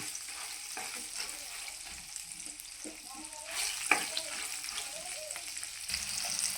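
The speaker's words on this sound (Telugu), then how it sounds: "తాలింపు వేగిపోయిందండి" Quiet, steady sizzling of tempering spices in hot oil for tamarind pulihora, with occasional faint pops and clicks, fairly low in level throughout.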